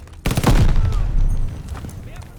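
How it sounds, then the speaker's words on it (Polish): Rifle fire in the video game Call of Duty: Vanguard: a sudden loud burst of several rapid shots followed by a decaying echo and a few softer reports. "Co to jest za karabin znowu?"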